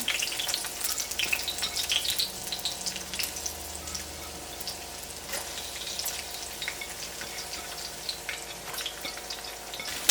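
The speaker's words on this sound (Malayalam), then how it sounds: "ഇഞ്ചി വെളുത്തുള്ളിയും നന്നായിട്ടൊന്ന് പൊരിഞ്ഞ് വരട്ടെ" Finely chopped ginger and garlic fry in an iron pan, a steady close sizzle with scattered crackles and pops throughout, loud and continuous with no voices.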